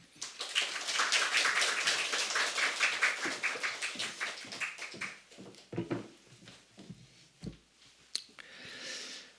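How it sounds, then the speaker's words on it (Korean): Church congregation clapping to welcome a guest preacher at an early-morning worship service, quick steady claps that swell and then thin into scattered, fading claps, fairly quiet overall. "강사님 나오실 때 큰 박수로 환영하겠습니다."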